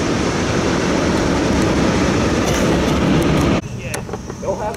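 A CSX freight train rolls past near Richmond, Virginia, a loud continuous rumble and rattle of cars that suddenly drops off near the end, with a voice heard over it.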